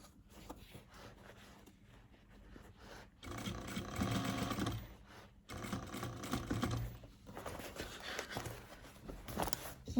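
A sewing machine stitches the bottom of a handmade leather bag, running in bursts of fast, even mechanical whirring and clatter that stop and start again, close and fairly quiet.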